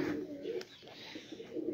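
Pigeons coo on a rooftop, with soft, low, rolling calls repeating close by in a quiet setting.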